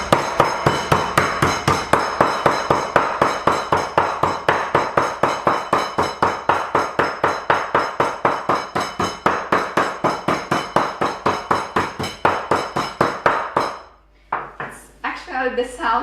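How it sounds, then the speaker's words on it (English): Pork cutlet wrapped in foil for kotlet schabowy is pounded with a mallet in a steady, rapid rhythm of loud, clattering metallic thuds that go on for many seconds before stopping, with a few quieter knocks at the end. "That's why it's better to wrap it with the foil and start pounding, so it will be quite loud."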